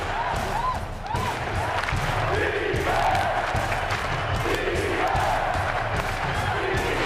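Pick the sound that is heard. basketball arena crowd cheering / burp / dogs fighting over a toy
basketball arena crowd cheering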